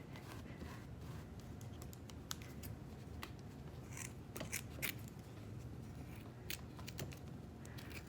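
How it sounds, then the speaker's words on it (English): Scissors snip through faux fur upholstery fabric below the staples on a chair being reupholstered, giving quiet, irregular sharp cuts, some in quick runs, close up with no talking. "I'm going to just push all of the fur up, and then trim off the fabric."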